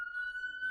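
A faint, steady single-tone siren holds one pitch throughout, distant and thin, with no talking over it.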